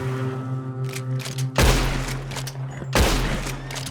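Gunfire in the video game Red Dead Redemption 2, two loud, close gunshot blasts about a second and a half apart over a low hum of game background sound.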